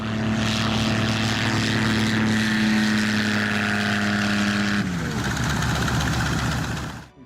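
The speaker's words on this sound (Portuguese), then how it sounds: "Lovely touchdown there by the local pilot in the Yak 3." A Yak-3 propeller fighter touching down on a runway, its engine drone loud and close with a steady tonal hum that drops in pitch and roughens as it rolls out, fading at the end.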